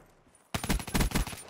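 Rapid bursts of gunfire in Black Ops 3 begin abruptly after a short quiet start, loud, close and repeated in a steady automatic rhythm.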